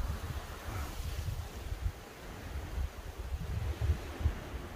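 Wind gusting across Unjangsan mountain on a foggy, cloudy day, a faint continuous rumble of buffeting against the microphone with no voices.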